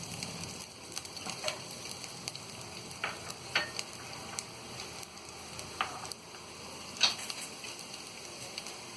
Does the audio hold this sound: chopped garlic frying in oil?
yes